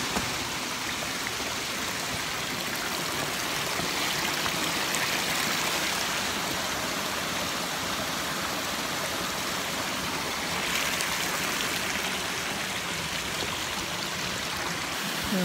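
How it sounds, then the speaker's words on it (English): A creek with a small waterfall near tennis courts rushes steadily, a constant broad splashing roar with no voices, close and even throughout. "Over by the tennis courts, there's a creek, a little waterfall."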